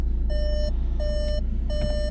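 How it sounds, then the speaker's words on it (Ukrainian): A car's warning chime sounds for the engaged parking brake and reverse gear: three evenly spaced electronic beeps, each lasting about half a second, ring out clearly over a steady low engine idle inside the cabin. "Це в нас пищит ручник і те, що включив задній хід"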